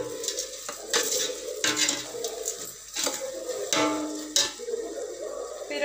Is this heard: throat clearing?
no